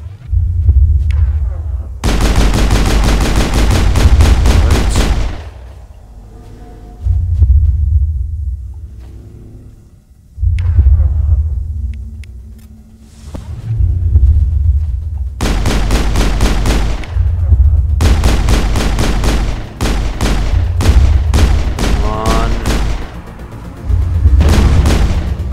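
Loud bursts of Mass Effect video game gunfire, several long sustained volleys of rapid shots separated by brief lulls of low humming and rumble, dense and close throughout.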